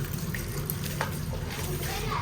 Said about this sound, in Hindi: अभी जो है ना टूटी चला देते हैं, इसको जो है ना अच्छे तरीके से धोते हैं।